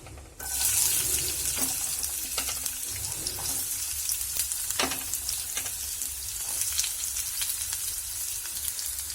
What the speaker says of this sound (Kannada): ಸೊ ಈರುಳ್ಳಿ ಇವಾಗ ಎಣ್ಣೆಯಲ್ಲಿ ಸ್ವಲ್ಪ ಚೆನ್ನಾಗಿ ಫ್ರೈ ಮಾಡಿ.